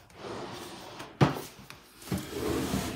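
A drawer in a nail desk is handled with a sharp wooden knock, a sliding scrape, then a second thud as it shuts, close and fairly quiet in a room.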